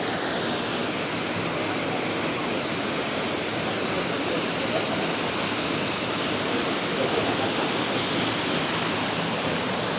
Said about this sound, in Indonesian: Aku kurang tahu untuk aliran air dari air terjun ini air panas atau air dingin.